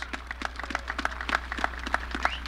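An audience at a West End groundbreaking ceremony in Cincinnati claps, a thin, scattered patter of individual hand claps in a loose rhythm over a low electrical hum, fairly quiet and brief.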